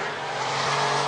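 A Porsche 964 makes a hard launch, engine revving high under a broad, sustained tyre squeal that swells slightly over one second, loud and close.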